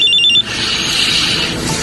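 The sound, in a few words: cellphone ringing, radio drama sound effect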